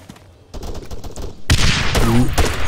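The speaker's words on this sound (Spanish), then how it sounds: "No, son disparos directos." Gunfire in the military shooter game Arma 3 during a multiplayer match, a quiet stretch giving way to dense, loud bursts of close shots and rattling automatic fire, with a sharp swell of heavy volleys midway through.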